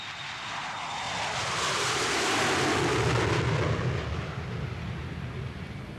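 A Boeing 707 passenger jet roars overhead, its engine noise swelling to a loud, broad rumble and then slowly fading as it passes, with no voices.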